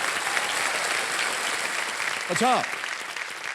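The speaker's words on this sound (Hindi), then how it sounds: "तालियां बजती रहें इनके लिए।" Studio audience applause on the quiz show Kaun Banega Crorepati: a continuous wash of clapping, with someone speaking briefly over it near the end.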